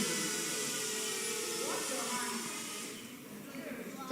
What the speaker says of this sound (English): Oh yeah, release the drone.